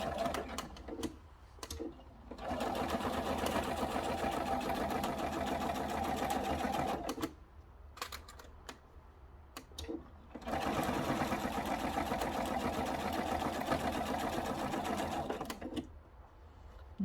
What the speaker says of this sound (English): all we're going to do now is stitch right down, starting on the very top at the very edge